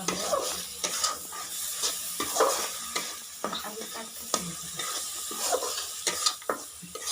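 Cumin and coriander powder sizzle in a fish curry cooking over a wood-fired stove in an Odisha village kitchen, with steady frying hiss and repeated scraping stirs of a spoon against the pan.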